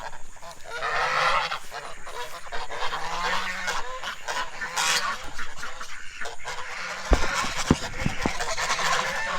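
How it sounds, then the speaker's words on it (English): Geese honk loudly and repeatedly on a farm, a raucous overlapping chorus close by with harsh nasal calls and a few sharper squawks. "I don't know if you can hear me over the geese"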